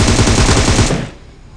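Rapid automatic M762 rifle fire in PUBG Mobile, a loud close burst of fast repeated shots that cuts off and trails into a fading echo.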